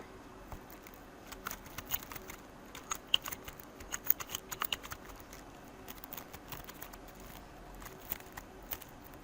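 Light, irregular keystrokes on a computer keyboard while a username and password are entered to create a Gmail account, soft and close in a quiet room with no talking.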